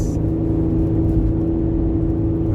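A Ford Explorer engine decelerating, heard from inside as a low, steady droning hum with no talk.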